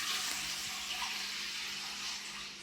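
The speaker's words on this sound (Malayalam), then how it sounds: "അപ്പോൾ നമ്മൾ വെള്ളം ഒഴിച്ചു" Water poured into a large pot for cooking, about two and a half litres, a steady rushing pour running continuously and close, with no voices.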